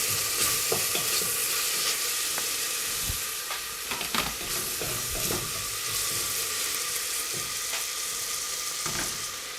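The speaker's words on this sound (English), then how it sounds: "now I'm going to add to this this 1 large clove of garlic" Chopped garlic sizzling in a hot pan with curried lamb chops, a steady loud frying hiss with occasional stirring scrapes and pops, close and without talk.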